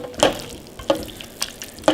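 Tomato sauce being stirred in a cooking pan, four distinct spoon scrapes and clinks spaced about every half second over a low, quiet simmer.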